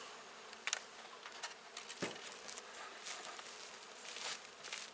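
Honeybees buzzing at an open beehive: a faint, steady swarm hum with scattered louder passes of individual bees near the microphone, plus light rustling and handling noises, no talk.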